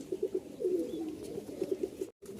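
A black male Rajshahi Giribaz pigeon gives soft, low, repeated coos in short pulsing phrases, close by and fairly quiet against faint background noise.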